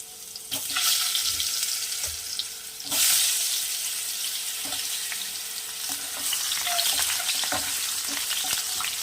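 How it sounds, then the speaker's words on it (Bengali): Long-cut potato strips frying in oil in a pan, with fish already fried in the same oil, give a steady close hiss and sizzle broken by a few clinks and stirring bursts. "এবার এই তেলেই আমি কিছু এরকম লম্বা লম্বা করে আলু কেটে নিয়েছি, এই তেলেই আলুটা ভেজে নেব।"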